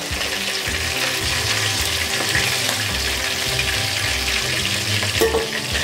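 Chicken pieces fry in hot oil for a chicken gravy, a dense continuous crackle and sizzle close up, with faint scraping and a single clink near the end.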